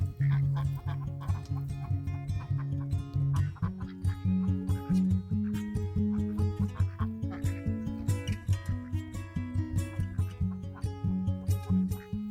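Repeated duck calls, rhythmic and close, clucking and quacking in short bursts over a steady low background, near a greenhouse.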